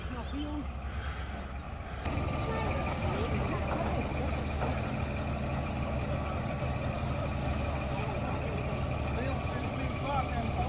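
A large truck delivering twelve cubic metres of sifted black soil, its engine rumbling steadily nearby with a loud, continuous drone, while people talk over it.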